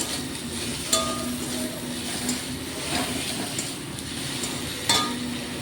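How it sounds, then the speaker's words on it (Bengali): Chopped tomato dropped into hot oil with garlic, frying in a pan with a steady close sizzle and occasional clinks of a stirring utensil, no talking. "এবার টমেটোটা দিয়ে দিলাম, টমেটো কুচিটা"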